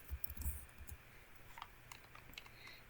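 Typing a command on a computer keyboard: a few faint, quick key clicks cluster in the first second, then trail off into a soft, quiet room.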